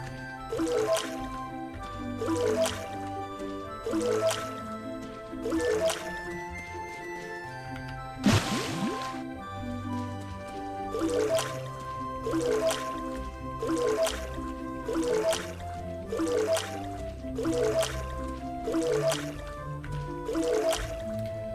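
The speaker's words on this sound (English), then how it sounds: "Let's get our watering can out." In the World's Dawn farming game, a watering can splashes over crops in a steady rhythm of short repeated pours, with game music playing underneath.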